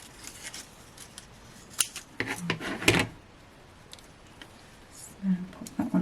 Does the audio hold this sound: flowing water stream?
no